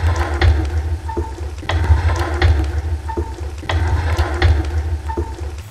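A devolay breaded chicken cutlet fries in a pan with a steady, loud sizzle and crackle, close up, with faint periodic scraping or stirring sounds and no talking.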